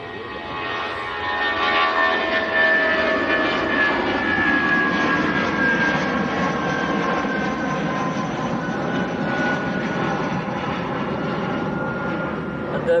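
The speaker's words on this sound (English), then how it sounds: "it is British Airways going back down to London Heathrow, Airbus A319" A British Airways Airbus A319 jet on its takeoff roll at Manchester Airport, a steady broad roar of jet engines with whining tones, sustained and fairly loud, heard from a distance.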